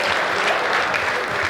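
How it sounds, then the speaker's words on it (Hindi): An audience at a Hindi comic poetry gathering breaks into applause, a dense continuous patter of many hands throughout the brief moment. "हाथ उठाइए और तालियां बजाइए"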